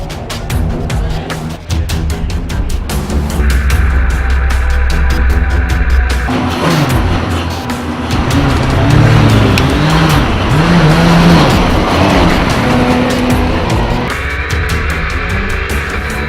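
A race car in the Birkett relay race runs loudly and close, its engine rising and falling through gear changes, with tire squeal and skidding noise and no talking.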